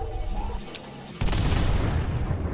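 A sharp explosion bursts in the video game Cultic as a grenade launcher round sets off dynamite, erupting suddenly into a loud, broad roar that holds for over a second after quieter game sounds.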